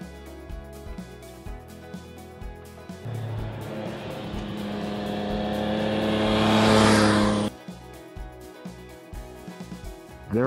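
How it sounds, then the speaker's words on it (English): The big cross-plane triple engine of a 2024 Yamaha Tracer 9 GT+ motorcycle builds in a steady rising drone that swells louder and higher for a few seconds, then cuts off abruptly, leaving quieter background rumble. "I've always been a fan of this big cross-plane triple. It makes great noises"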